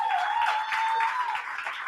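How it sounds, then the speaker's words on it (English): An audience at a comedy night claps for the CU Comedy performers, producing a steady wash of applause that stays fairly even and moderately faint with no pauses. "let's give another just like thunderous round of applause for CU Comedy"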